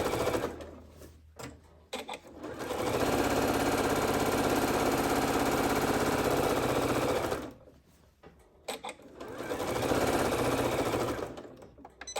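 A sewing machine stitches a seam on a gift bag in two long, fast, steady runs of rapid mechanical chatter, with a pause and a few brief starts between them, close and loud.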